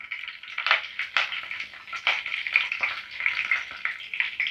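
Curry leaves and chana dal crackle and spit in hot oil, a fairly soft, close sizzle with repeated sharp popping bursts throughout, for tamarind rice.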